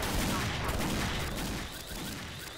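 Continuous heavy gunfire from the online shooter XSHOT, a dense, loud stream of overlapping shots that stays steady and dips a little in the last second.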